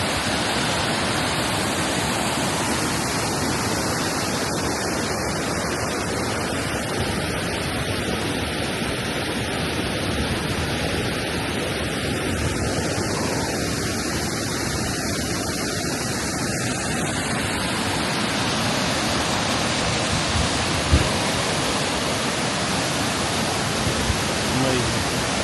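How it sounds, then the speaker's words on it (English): Devil's Punchbowl waterfall roars as a dense, continuous rush of fast-flowing water, loud and steady throughout with no break. "The water is going quite fast."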